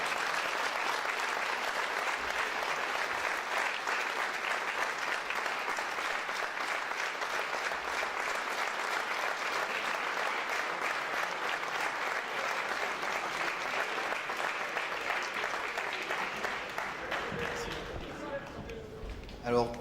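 Sustained audience applause fills a rugby award ceremony hall, steady and dense for most of the stretch before thinning out near the end as a voice begins over the fading claps.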